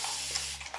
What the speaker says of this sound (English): So I just took my spray bottle